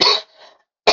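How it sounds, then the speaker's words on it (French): A person coughs after breathing sand-laden air: a loud, harsh cough, a brief faint rasp, a short gap, then a second sharp cough cut off at the end. "vous inquiétez pas si je tousse"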